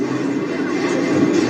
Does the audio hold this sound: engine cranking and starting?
no